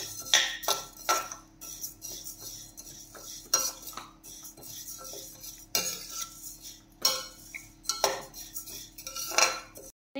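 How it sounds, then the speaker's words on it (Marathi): Moong and urad dal dry roast in a pan, stirred with a metal spoon that scrapes and clinks against the pan in irregular bursts, close and fairly loud, with no talk. "आता आपण मूग डाळ आणि उडीद डाळ सोबतच भाजून घेऊयात।"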